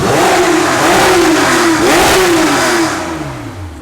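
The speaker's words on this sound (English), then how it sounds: "But when I rev it quick, it's got a little flap." Big block engine in a BMW revved quickly, the loud close-up roar rising and falling in two or three quick sweeps before easing down toward idle.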